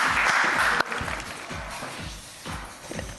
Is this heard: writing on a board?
no